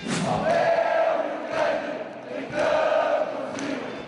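Grêmio football supporters at the Olímpico stadium in a farewell chant, a distant massed crowd roaring in rhythmic surges that swell and fade roughly every second.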